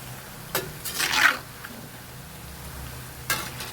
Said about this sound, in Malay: Kita masak, kita goreng sampai dia warna keperangan.